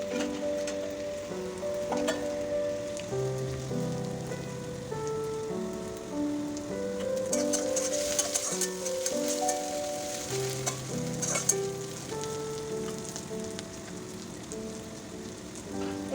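Crushed ginger and garlic fry steadily in a pan, a continuous sizzle under music.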